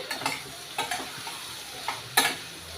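Chopped spiny gourd gets stirred in a pan, a few distinct scraping strokes of the spoon over a soft frying sizzle, close and fairly quiet.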